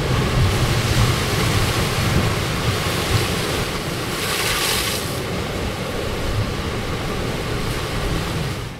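Ocean waves wash against natural rock pools at Playa de las Salinas on the north coast of Gran Canaria, making a steady, loud, close surf roar mixed with wind noise.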